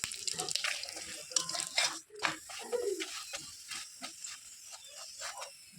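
Tap water runs in a home kitchen while something is washed beneath it, a steady close splashing with drips and a soft hiss that swell and ease over several seconds.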